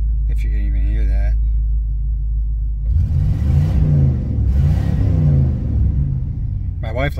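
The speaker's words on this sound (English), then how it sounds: "get a little revving in, get some of the cobwebs blowing out of the carburetor for you" A carbureted car engine idles with a low rumble, then revs up in two swelling surges before settling back, close and loud.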